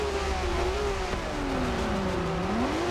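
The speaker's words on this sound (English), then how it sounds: "Everybody revving their motors, and as soon as Enraged Barney takes off, everybody's free to go" Several race cars in the Forza racing game rev their engines on the starting grid, a steady loud roar with pitch sweeping up and down as the throttles blip, continuous throughout.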